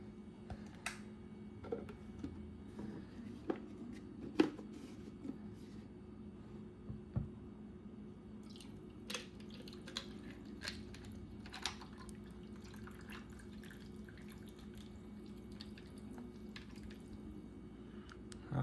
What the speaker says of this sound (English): I'm gonna try my best to pour it in the cup